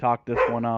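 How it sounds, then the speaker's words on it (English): A pet pit bull barks indoors, close and loud, in a short burst lasting under a second, with a person talking over and around it. "Actually, the dog that barked is the one that's in the picture."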